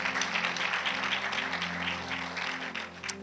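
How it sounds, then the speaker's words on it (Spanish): A church congregation claps together in a sustained, dense round of applause that stays steady throughout, heard at a moderate distance over a low electrical hum. "Dale fuerte el aplauso al Señor."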